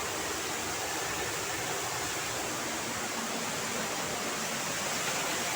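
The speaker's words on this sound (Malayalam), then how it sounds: "ഇതിനടിയിൽ നിന്നാണ് വെള്ളം വരുന്നത്" Water flows out from under rocks at a waterfall: a dense, steady rushing roar, close and continuous with no pauses and no voices.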